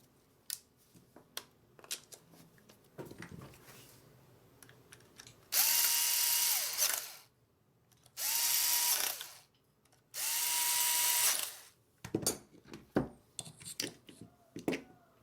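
A Wahl Lister Stablemate electric livestock clipper runs after being plugged in, its buzzing motor starting in three loud, steady bursts of about a second or two each, separated by pauses, with handling clatter before and after.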